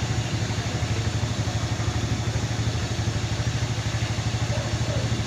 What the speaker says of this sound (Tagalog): Motorstar 125 MSX. Okay na po yung andar oh.